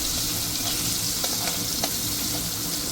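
Medium onions and garlic frying in a pan for masala dosa give a continuous loud hissing sizzle, close up, with a few faint clinks of stirring and no voices.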